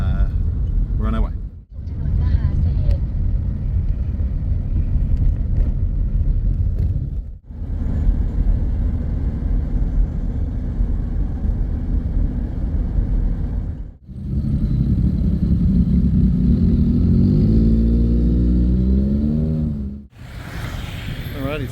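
Inside a taxi moving through Bangkok traffic, a steady low road rumble and engine hum continue, broken by a few brief dips, with a faint rise in engine revving near the end.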